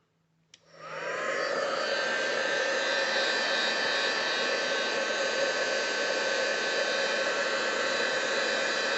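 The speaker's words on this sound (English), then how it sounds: "I'm going to make sure that that is actually dry, so I'm going to put my heat tool on" A handheld craft heat tool switches on and blows a steady, loud whirring roar of hot air across a small mixed-media tile card, drying the gilding gum after a faint click at the start.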